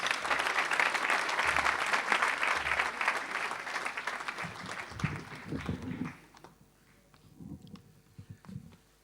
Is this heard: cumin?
no